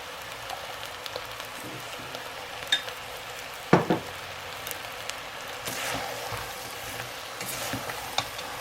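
Boiled vegetables roast in a pan with gram masala and homemade pav bhaji masala, a quiet, steady crackling sizzle punctuated by scattered spoon scrapes and one louder clatter near the middle.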